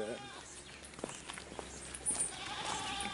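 Goats tethered along a roadside in Jamaica bleat in short, scattered calls over faint outdoor background noise, with a few light footsteps or movements in between.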